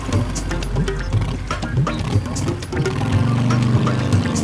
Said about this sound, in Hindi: अतर ने बाइक स्टार्ट की और तुरंत पापा की कार के पीछे लग गया।